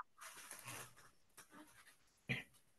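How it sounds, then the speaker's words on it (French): An excited dog pants in quick, breathy bursts close by, ending in a sharp louder huff. "C'est mon chien qui s'excite."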